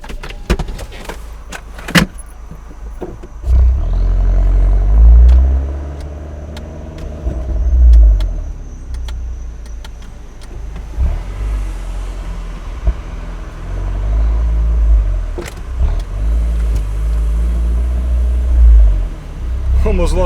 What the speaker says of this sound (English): I'll do some top-down driving in a bit.